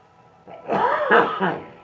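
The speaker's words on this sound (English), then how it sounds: "I'm coughing because I'm choked up because I'm laughing at it." A single person coughs and clears their throat, a short rough burst lasting about a second, close to the microphone and alone.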